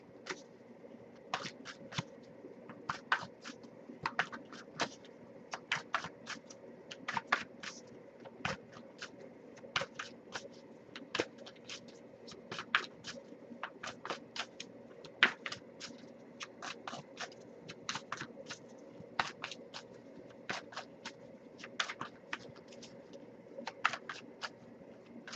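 A deck of oracle cards is shuffled by hand in a quiet room, giving repeated crisp riffling bursts at a steady rhythm throughout, close and fairly soft, with no talking.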